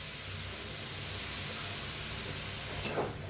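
Cut ridge gourd roasts in a hot dry kadhai, giving a steady close hiss that swells into a brief sharper sizzle burst near the end.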